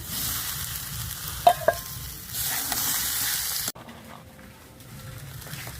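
Vegetables and fried lentils sizzle in a pan as a spoon stirs them, with two sharp clinks partway through; the sizzle runs steady and close before dropping to a quieter hiss.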